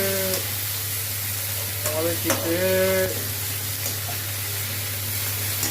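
Tomatoes are sautéed in a pan, giving a steady, loud frying hiss with a low hum beneath it and a few brief stirring scrapes and clinks.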